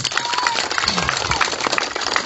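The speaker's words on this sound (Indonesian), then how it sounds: "Tepuk tangan dulu ini." A crowd at a political campaign rally applauds loudly and continuously, dense clapping close by with faint voices mixed in underneath.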